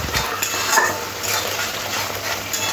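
Tomato paste cooked with spices in a pan for a spicy katla fish curry, a close steady sizzle under rhythmic scraping stirs with light utensil clatter, no voices.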